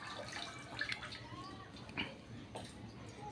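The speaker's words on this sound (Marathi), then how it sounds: "आता मी भाजी धुवून घेते स्वच्छ पाण्याने." Fenugreek leaves are rinsed in clean water, giving soft splashing and dripping sounds with a few brief swishes at close range.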